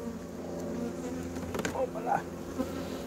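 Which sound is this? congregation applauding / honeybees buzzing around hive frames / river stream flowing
honeybees buzzing around hive frames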